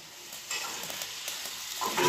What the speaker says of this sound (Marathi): तर आपण एक एक मासा फ्राय करून घेऊया.